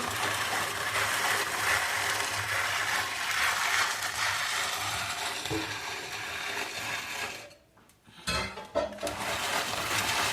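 A manual hand-cranked grinder grinds walnuts with a steady rasping, ratcheting mechanical churn, close and continuous, pausing briefly near the end before resuming.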